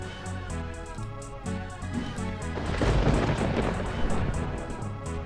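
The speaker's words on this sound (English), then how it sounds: "What was that lightning noise?" Thunderstorm ambience from a rain-sounds webpage: steady rain under a rolling roll of thunder that builds midway and then eases back into the patter.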